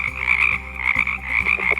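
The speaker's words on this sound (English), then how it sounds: "The frogs have started their mating calls." A dense chorus of California red-legged frogs giving mating calls, croaking vigorously, steady overlapping calls with a continuous high trill, close and loud with no voices.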